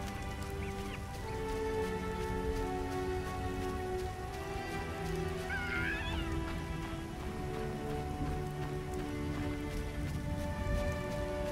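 Steady rain falls in the game The Witcher, a dense even patter on surfaces throughout, with a faint bird call briefly rising above it.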